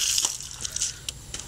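Water runs from a faucet in a short, bright, splashy hiss with a few spattering bursts, close by and alone.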